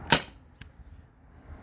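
A single sharp, close pop from a modified T4E TR68 CO2 marker with a 1 mm drilled restrictor, followed by a faint echo a half-second later, then quiet.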